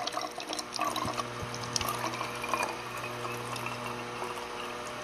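Ordinary water poured into a bottle jar, a continuous trickling, bubbling flow with a faint low hum underneath and a few light knocks near the start.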